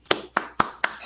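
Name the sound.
applause for a speaker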